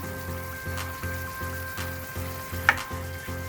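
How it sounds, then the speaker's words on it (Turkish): Kavurma, cubed meat cooking in its own juices, fries in a pan with a steady, close sizzle and bubbling, pulsing gently, with one brief metallic clink partway through. "Kavurmamız pişiyor"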